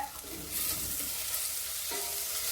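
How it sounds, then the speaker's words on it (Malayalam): Tomatoes being stirred into a frying masala in a pan, with a steady close sizzle, a scraping stir near the end, and no talking. "എന്നിട്ടത് നന്നായിട്ട് ഇതിൽ യോജിക്കുന്ന വരെ ഇളക്കിക്കൊണ്ടിരിക്കണം"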